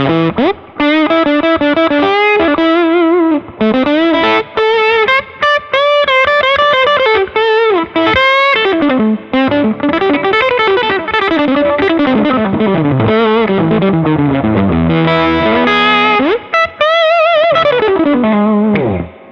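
An overdriven electric guitar plays a continuous, loud lead line with sustained bent notes, smeared by a light reverb.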